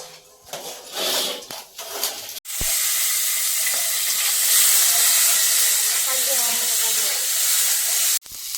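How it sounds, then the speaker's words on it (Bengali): Eggplant and potatoes fry in a home kitchen pan during a heavy rainstorm, a loud steady sizzle and hiss running for several seconds after some earlier clattering of pots and utensils. "এদিকে বেগুন আর আলু একটু ভাজা ভাজা করে নিচ্ছি।"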